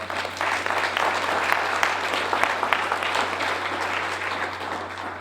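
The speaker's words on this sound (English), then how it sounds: "How about another round of applause?" Sustained applause from a crowd, a dense steady patter of clapping hands that holds at an even level throughout.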